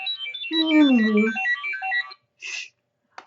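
Phone ringtone plays a bright, loud melodic chime of rapid stepped notes for about two seconds, followed by a short separate tone burst after a pause.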